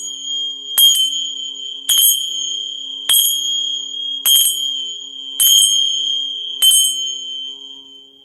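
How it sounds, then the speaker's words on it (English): Metal chimes struck six times at an even, unhurried pace, each bright ring lingering with a sustained shimmering tone between strikes, clear and close in an otherwise quiet room. "I'm going to go ahead and use my chimes to clear out the energy"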